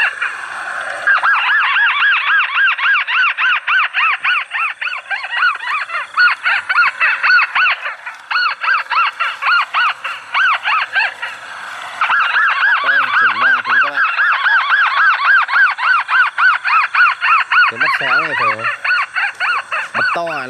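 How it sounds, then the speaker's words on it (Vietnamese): A loud, continuous rapid warbling call of a mắt xéo bird repeats almost without pause, close and dominant, with brief gaps and a few lower chirps. "Đấy, tiếng mắt xéo đấy."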